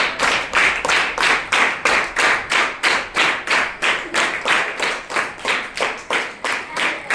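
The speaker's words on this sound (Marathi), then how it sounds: "सगळ्यांनी टाळ्या वाजवा." Students in a Marathi school classroom applaud together, a steady run of brisk, evenly spaced claps lasting the whole stretch, loud and close with no talking over it.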